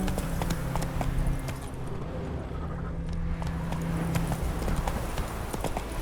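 Hooves of Roach, Geralt's horse in the video game The Witcher 3: Wild Hunt, a rapid rhythmic clip-clop on hard ground over a steady low rumble, continuous and close.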